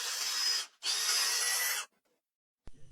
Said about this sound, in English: the housing's inside needs careful sanding too